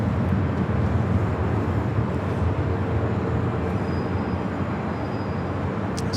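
A continuous, loud broadband roar of a Delta A350 airliner moving at LAX airport, a steady engine rumble heard from nearby, with no talking.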